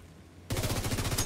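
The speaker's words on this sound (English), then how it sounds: "Wow, that shotgun outright executed me." Rapid, loud bursts of gunfire in a shooter game erupt suddenly after a quiet moment, a fast repeating volley of close blasts, with shotgun fire among them.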